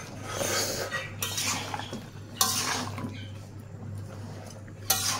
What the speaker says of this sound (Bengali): একটু পর পরই ঢাকনা খুলে নেড়ে চেড়ে দিতে হয়